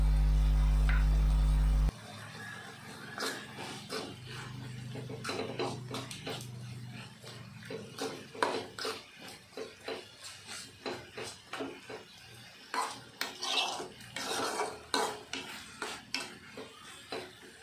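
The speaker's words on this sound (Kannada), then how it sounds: "ಟೊಮೊಟೊ ಸ್ವಲ್ಪ ಫ್ರೈ ಆದಮೇಲೆ ನಾವು ತೆಗೆದುಕೊಂಡಿರೋ ಕೊತ್ತಂಬರಿ ಸೊಪ್ಪು ಹಾಕಿ ತಿರುಗಿಸ್ಕೊಬೇಕು" Tomato chutney with coriander leaves being stirred in a frying pan, a spoon scraping and clinking repeatedly over a soft sizzle, close and moderately loud.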